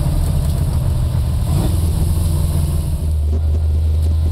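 A 1963 Ford Galaxie with a 427FE V8 and dual four-barrel carburetors rumbles loudly and steadily from inside the car, its deep engine drone holding on an even, low tone that shifts slightly partway through.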